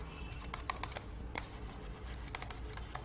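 Keys clatter on a computer keyboard while code is typed, a burst of distinct sharp clicks in an uneven rhythm, close and fairly quiet over a low background hum.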